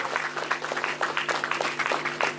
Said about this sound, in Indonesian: Kita kasih aplaus buat santriwan santriwati